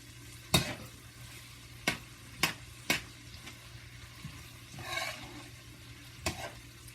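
Onions and bell peppers sauteing in a pan, with a soft continuous sizzle broken by several sharp utensil scrapes and stirring knocks at irregular intervals, heard close with no talking.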